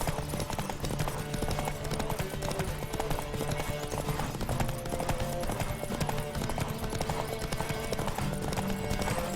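Rapid hoofbeats of a horse in The Witcher 3 pound in a steady galloping rhythm over a dense, continuous mix of music and game effects, with no talking.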